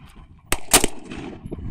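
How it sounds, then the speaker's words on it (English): An AR-15 rifle fires at an outdoor shooting range: one sharp crack, then a quick pair of loud reports a moment later, each leaving a short ringing tail over quiet background. "now it's time to see how I can do shooting an AR-15"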